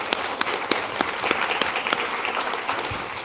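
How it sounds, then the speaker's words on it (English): Dense applause from a conference audience, continuous crowd clapping throughout, fairly loud and close, with a few sharper individual claps standing out. "So yes, that's worth a round of applause."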